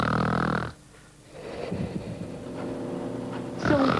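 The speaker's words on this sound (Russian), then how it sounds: "Пациент громко храпит?" A patient snoring in a hospital sleep laboratory, a loud rasping snore followed by a quiet pause, then deep rumbling breaths building again, close and alone without talk.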